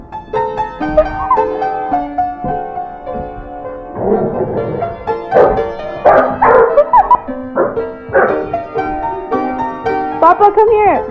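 A dog dressed in a costume barks and yips repeatedly in close, loud bursts, with some whimpering tones mixed in across the stretch.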